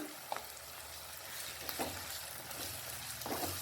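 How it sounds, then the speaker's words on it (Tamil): Ground coriander, turmeric and cumin powders sizzle and fry in hot oil for a fish curry, a steady close hiss with a few soft stirring scrapes throughout. "அதையும் எண்ணெயிலே போட்டு நல்லா வதக்கிடணும்"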